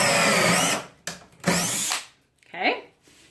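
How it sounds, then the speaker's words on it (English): A power drill bores pocket holes through a Kreg jig into wood, whining loudly in three close bursts separated by brief pauses, with a short stretch of speech near the end. "Here we go with our first hole. Just position your drill into the slot there."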